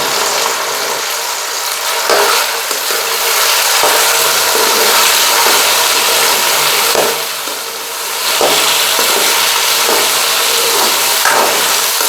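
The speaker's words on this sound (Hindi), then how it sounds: "घी गर्म हो चुका है, अब हम इसमें अरबियाँ डाल देते हैं।" Pieces of taro (arbi) fry in hot ghee with a loud, steady sizzling hiss that runs unbroken for about twelve seconds, dipping briefly once before rising again.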